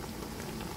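Water in a pot on the stove coming to a boil for blanching sweet potato stems, a steady dense bubbling hiss that holds evenly throughout, fairly quiet and with no voices.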